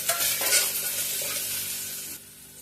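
Chopped tomato and green masala frying in a pan for a beans curry, a close sizzling hiss with a stirring scrape, loud at first and fading quieter toward the end.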